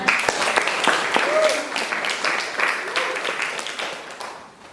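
A crowd claps steadily for several seconds, a dense patter of hands that gradually fades out, with voices mixed in.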